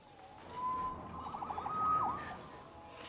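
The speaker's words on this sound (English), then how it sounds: "Saved by the siren." A police siren from the Spider-Man PS4 video game wails in a rising and falling tone, with a quick yelping warble in the middle, fairly faint and alone.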